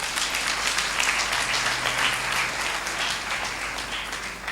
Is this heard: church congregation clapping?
yes